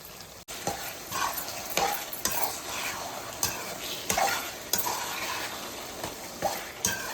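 Gongura leaves stirred and fried in a pan for gongura galaboti, giving a steady sizzle broken by repeated scraping strokes of the spoon at an uneven rhythm, close and moderately loud with no talking.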